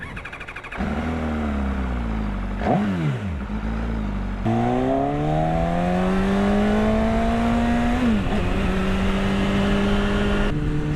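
An MV Agusta F4 motorcycle engine runs close by, droning steadily and rising in pitch as it revs, with several sudden drops where the rider shifts gears.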